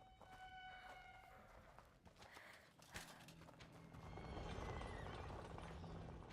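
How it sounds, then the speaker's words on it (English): A horse neighs and whinnies with clip-clopping hooves in the medieval game A Plague Tale: Innocence, close and fairly loud against a steady ambient bed, with no one speaking. "Horse."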